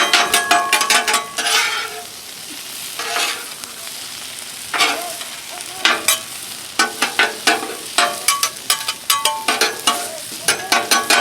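Food sizzles steadily on a Blackstone griddle while a metal spatula scrapes and taps the hot surface in quick bursts, close and loud, with no voices.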